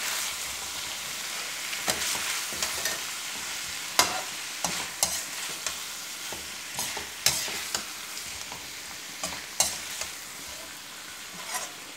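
Cauliflower and chopped ginger fry in a pan for a dry Indian gobi sabzi, a steady close sizzle broken by repeated sharp scrapes and clacks of a spoon stirring.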